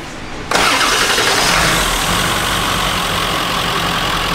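A car's engine cranks and catches after a half-second of quiet, then settles into a loud, steady idle close by, with no voices during it.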